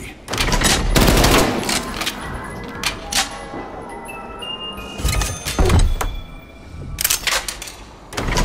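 An SMG fires in Call of Duty Cold War Zombies: several loud, sharp bursts of rapid gunfire split by brief pauses, over a low game background with faint electronic tones.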